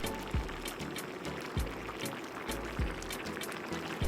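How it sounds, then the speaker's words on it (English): Paella rice and water bubbling hard in a pan over high heat, a steady close simmer with repeated soft pops and low bursts at a regular pace. "I'm just gonna let it bubble away for 10 minutes on a high heat"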